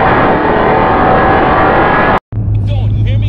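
A nitrous-fed, cammed Ram 1500 with a 5.7 Hemi roars loud and steady on a quarter-mile pass, cutting off abruptly before a lower drone resumes.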